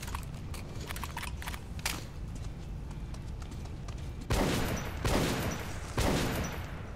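Shotgun blasts in the video game Metro 2033 Redux, three heavy booming shots spaced about a second apart in the latter half, following a stretch of clattering game noise.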